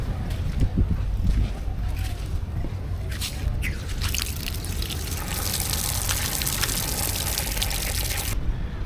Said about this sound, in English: I'm actually gonna wash my feet as I got sand in them.